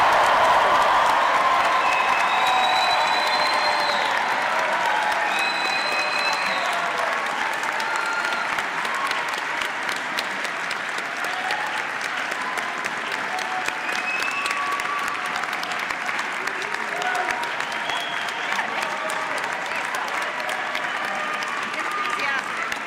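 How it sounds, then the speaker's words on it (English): A large convocation crowd at a university ceremony applauds the June 2026 graduates: sustained, dense clapping filling a big space, steady throughout, with faint whistles and cheers rising now and then above the wash. "please join me in applauding the June"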